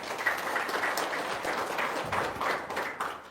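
Audience applause following a call to clap during an Indonesian religious talk on paying off debt, a steady dense patter of many hands filling the room with no voices over it.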